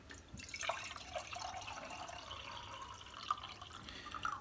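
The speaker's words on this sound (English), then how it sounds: "so I'm adding water and a couple of drops of dish soap rather than using milk" Water trickles and drips into a milk pitcher from a tap, a soft, steady liquid sound that runs throughout at close range, in preparation for steaming water with a few drops of dish soap.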